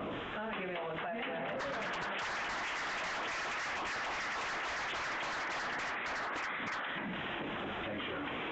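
Steady, dense applause from the audience at a Michigan Republican alliance meeting with the party chair, faint and continuous with a rustling texture and a voice talking over it.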